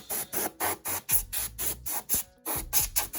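Short bursts of compressed-air spray blow dust out of a PS4 CUH-1001A console, a quick rhythmic series of about a dozen hissing puffs, close and fairly faint.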